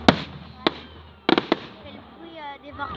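A fireworks display bursts with several sharp, loud cracks and booms in quick succession over a rumbling outdoor background, while people chatter and a whistling, swooping tone rises afterward.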